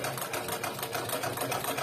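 A class 23A sewing machine motor runs at low speed, giving a close, steady mechanical whir with a fast, even rhythmic ticking and no talk.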